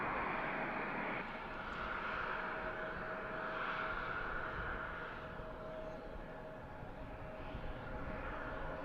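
Steady jet engine roar from an American Eagle regional airliner at Harrisburg airport on a breezy Saturday morning, a continuous broadband rumble and whine at moderate distance with no voices.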